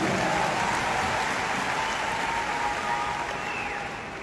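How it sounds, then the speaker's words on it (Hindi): Brief burst of audience applause, a dense, hissing patter of many hands clapping together that stays steady for about four seconds before easing off. "तो आप सबके लिए तो मैं चाहूंगा एक बार जोरदार तालियां मैं बजाऊंगा आपके लिए"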